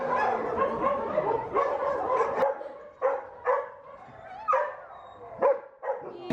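Excited shelter dogs bark, yip and whimper close by in repeated short bursts, several voices overlapping with brief pauses between outbursts.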